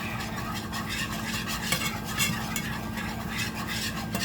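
A whisk works through lasagna sauce in a pan on the stove, giving a steady close scraping and swishing that runs without a break, with a few slightly louder strokes.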